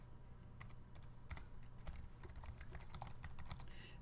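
Quiet clicking on a computer keyboard, a quick irregular run of keystrokes with small bursts and pauses, faint and close with no talking.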